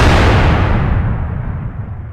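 A single heavy cannon blast from an SU-122-44 tank destroyer in World of Tanks booms up close, then rolls off into a fading rumble.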